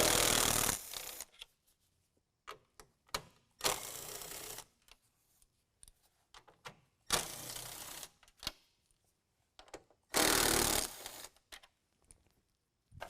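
Bolts holding a 2019 Ram 1500 grille are driven out with a 10mm socket, giving four loud, separate bursts of ratcheting whir spaced a few seconds apart, with quiet clicks and handling noise between them.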